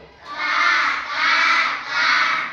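A group of children imitates a crow's caw in unison, giving three drawn-out, loud "kaa" calls in a steady rhythm, each separated by a short pause, as a response in a classroom true-or-false game.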